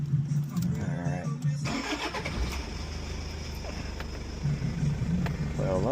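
A Toyota Hilux Surf diesel engine turned over with the key and firing into a low, steady idle close by, after a moment of talk at the start.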